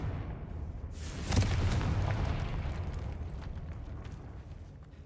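A Confringo blasting spell bursts in the Hogwarts Legacy video game, one loud explosive boom that swells suddenly and then rolls into a long rumbling decay lasting several seconds.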